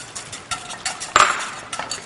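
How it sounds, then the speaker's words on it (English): Whisk clinking against a pot while Parmigiano Reggiano cheese is stirred into Alfredo sauce, a series of light irregular metallic taps and scrapes with one brighter clink midway. "And then you just whisk them in together."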